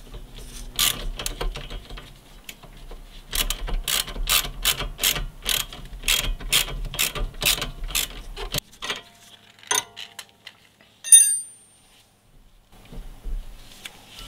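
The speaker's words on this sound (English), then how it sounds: "using a 14mm socket on the bolt side and a 13mm ratchet wrench on the other side, we're just going to go ahead and start tightening" A 13mm ratchet wrench tightens a brake line bracket bolt on a Toyota Yaris during a stainless steel braided brake line install, giving a fast, even run of close metallic clicks, then a pause and a few scattered clacks.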